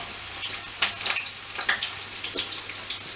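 Onion frying in hot oil in a pan crackles and spits steadily, with irregular sharp pops over a continuous close sizzle.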